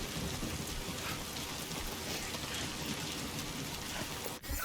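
Steady, dense rainfall in Death Stranding 2 on PC, a continuous broadband hiss of heavy rain with faint rumbling, alone and without talk.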